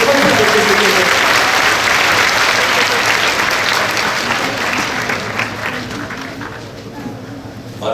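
Loud, sustained applause from a large crowd at a Bihar Earth Day 2017 event honouring Chief Minister Nitish Kumar, steady throughout and gradually easing toward the end.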